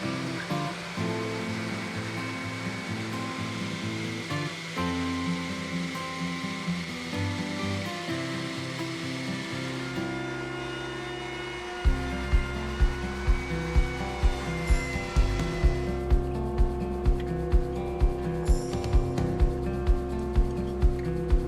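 An orbital sander works an end grain wooden cutting board at 80 grit, a steady loud whirring rasp that shifts partway through into a harsher, rhythmically pulsing grind, with no voices.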